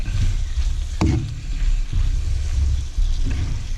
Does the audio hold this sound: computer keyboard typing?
no